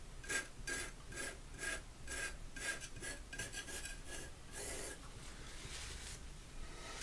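Palette knife scraping across oil paint on a canvas laid over a gouache drawing, a close series of short rasping strokes repeated steadily, with one longer, broader scrape near the end and no talking.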